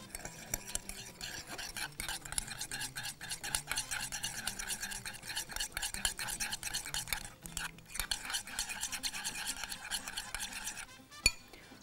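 Salad being tossed and stirred with lemon juice in a bowl, a steady busy scrape and clatter of utensils running throughout, close and fairly loud, with a brief sharp knock near the end.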